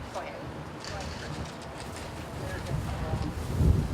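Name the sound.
wind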